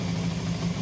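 A motorcycle with freshly refitted carburettors idles steadily, a low, even mechanical hum heard close for a brief moment with no talk.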